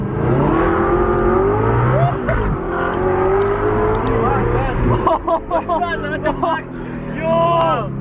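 Audi R8 engine revving hard as the exhaust valve opens past 3000 RPM, a loud rising and falling roar with sharp pitch sweeps, while people talk and exclaim excitedly over it.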